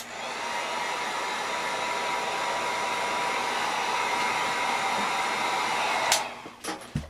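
A hair dryer blows steadily and close for about six seconds to dry paint on a model mask, then cuts off, followed by a few soft handling knocks, with no talk.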